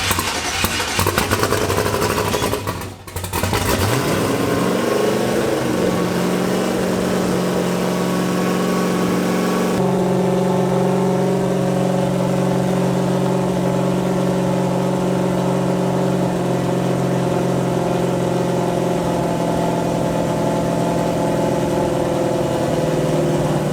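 A car engine with a weak starting battery cranks, clicks and restarts, then settles into a steady idle and rises into revving. It is loud and close, with no talk over it.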